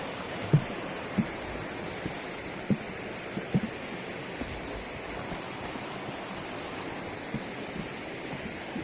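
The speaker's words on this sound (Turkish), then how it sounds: "Buz gibi nehir, dere." A steady rush of flowing water, like an icy river stream running nearby in Ihlara Valley, Cappadocia, with a few soft knocks and splashes scattered through it.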